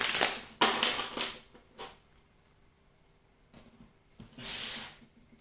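A deck of tarot and oracle cards is shuffled by hand in several quick riffling, scraping bursts, near and moderately loud, with quiet pauses between them and a final longer shuffle.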